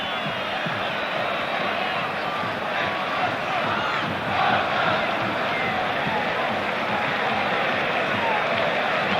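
Big football crowd at a 1986/87 Napoli v Atalanta match in Italy, a constant distant roar of voices across the stadium with a slight swell midway, under commentary talk.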